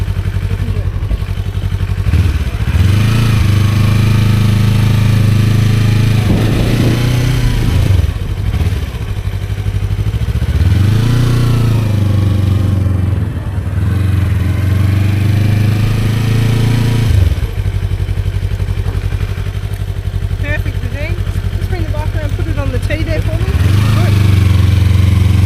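A motorcycle ridden through a riding skills test course, its mid-pitched engine rising and falling in repeated revs as it maneuvers, running continuously close by with no talk.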